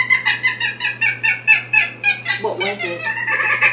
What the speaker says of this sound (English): Track 7. Common moorhen.